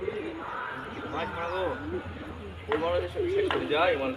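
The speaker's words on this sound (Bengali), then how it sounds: "দেখুন এই পায়রাগুলো দেখানো হচ্ছে শখের জন্য" Pigeons coo in soft, repeated rolling calls, close by, with a low background murmur.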